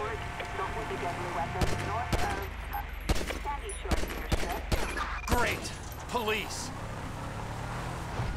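Sharp pistol shots crack out in an irregular, scattered volley during a GTA V gunfight, loud and close, with someone talking over the shooting.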